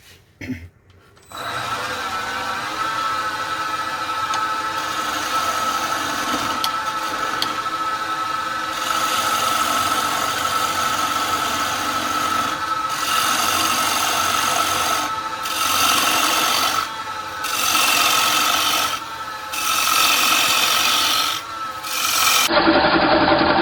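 A scraper chisel cuts into a wooden bowl spinning on a lathe, giving a steady, close rasping scrape that runs for most of the stretch and breaks into short pauses toward the end as the tool is lifted and reapplied.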